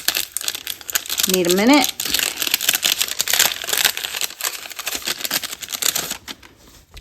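Vintage postage stamps stuck in their envelope crinkle and rustle steadily as they are tugged free, close and fairly loud, with a person talking over the paper noise throughout.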